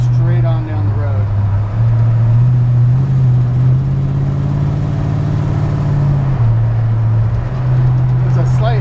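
A 1956 Ford F-100 truck with power steering cruises down the road, its engine a steady low drone that shifts pitch slightly as it drives, heard from inside with someone talking over it.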